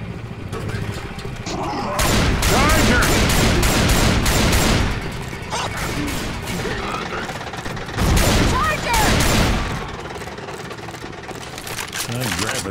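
Shotgun blasts and other gunfire in Left 4 Dead 2 pound out in dense, loud clusters between two and five seconds and again around eight to nine, with voices talking throughout.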